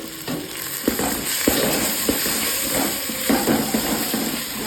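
Ginger, garlic and fennel paste sautéing in a pan for tomato rice, a steady close sizzle with scraping stir strokes landing every second or so.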